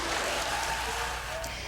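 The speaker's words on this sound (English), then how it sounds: "The Senate chamber erupting in cheers and applause as Ketanji Brown Jackson was confirmed to the U.S. Supreme Court" Cheers and sustained applause fill the U.S. Senate chamber as Ketanji Brown Jackson is confirmed to the Supreme Court, a loud, continuous crowd roar of clapping and shouting voices.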